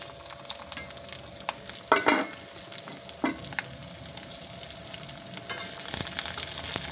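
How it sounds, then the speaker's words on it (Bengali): Ajwain, onion and green chilli hit hot oil and fry with a continuous crackling sizzle, broken by a few louder scraping stirs near the start and middle, close by and with no one talking. "এবার তেলটা গরম হয়ে গেছে, দিয়ে দেব জোয়ান, পেঁয়াজ, কাঁচা লঙ্কা"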